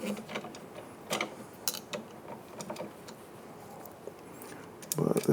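A small screw on a Knew Concepts marquetry and die saw is loosened by hand. Faint close metallic clicks and ratcheting ticks come in irregular bursts, with a louder clack at the end and no talking.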